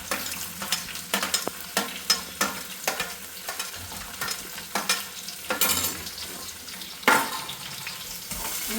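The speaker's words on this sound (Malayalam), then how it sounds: "അപ്പോഴേക്കും നമുക്ക് ഉള്ളി ഇട്ട് കൊടുക്കാം." Onions sizzling in a pan of hot oil while being stirred for pasta, with a steady bright fry broken by repeated scraping strokes of the spoon, close and fairly loud.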